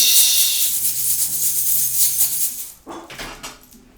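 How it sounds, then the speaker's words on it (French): A pet dog indoors gives a few muffled barks and whimpers amid a hissy background, then goes quieter near the end as a door is shut. "Mon chien aboie."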